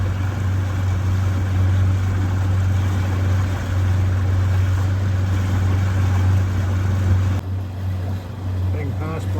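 A boat engine drones steadily with a low, constant hum as it motors upstream against the current on the Murray River, water washing along the hull, the motor dipping briefly near the end.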